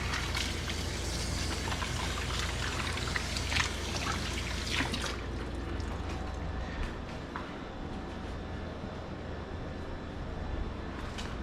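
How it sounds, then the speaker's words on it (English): Tap water runs steadily into a sink while hands are washed in a home kitchen during sandwich preparation, a constant close rushing with no talk. "Wash my hands even though I was wearing gloves."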